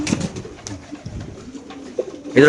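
Pigeons at a market stall coo softly amid scattered rustles and clicks, with a louder burst of cooing at the very end.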